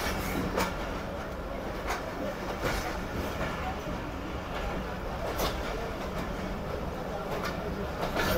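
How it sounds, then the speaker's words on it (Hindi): The Karakoram Express, running with only ten coaches, rolls steadily on the rails with rhythmic clickety-clack wheel beats and a constant rumble heard from inside the moving train. "ट्रेन सिर्फ 10 डब्बों के साथ आ जा रही है अपने सफ़र पर"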